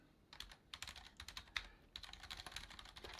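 Computer keyboard typing in quick irregular bursts of crisp clicking keystrokes, close and fairly quiet, with short pauses between runs and no talking.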